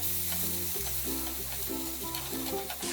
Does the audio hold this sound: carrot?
yes